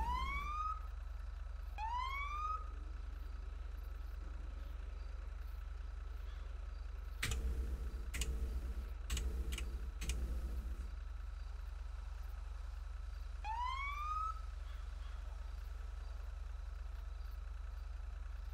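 A police siren whoops in short rising bursts, with a cluster of sharp electronic blasts in the middle, heard up close over a low engine hum.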